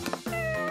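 A single black cat gives one clear, close meow in an animated cartoon, drawn out and slightly rising, with a few quick soft sounds just before it.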